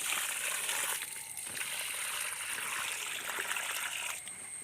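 Liquid fertilizer pours from a small paint bucket onto a sack-grown taro plant, making a continuous close trickle and slosh of water that shifts in strength as it flows, with no voice over it.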